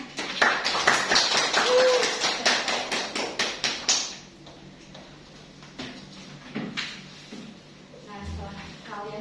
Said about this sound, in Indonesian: Berikan tepuk tangan kepada Mbak Yulia beserta rekannya.